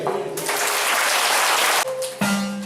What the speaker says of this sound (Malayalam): ഉഷാറായി കൈയടിച്ച്